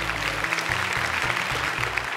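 Steady studio audience applause at a televised Quran memorization competition, a dense wash of clapping lasting a couple of seconds without speech.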